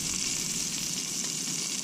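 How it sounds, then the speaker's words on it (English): Walleye wings fry in butter and olive oil, a continuous bright sizzle with fine crackling, heard up close and fairly quiet with no voices. "walleye wing frying up right now"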